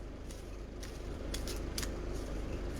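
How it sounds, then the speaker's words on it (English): A deck of assorted cards being shuffled by hand, a steady papery rustle with a few sharper riffling bursts in the middle, close and fairly quiet. "We're going to shuffle them up like so."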